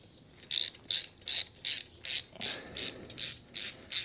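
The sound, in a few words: thread chaser cleaning bolt threads in engine block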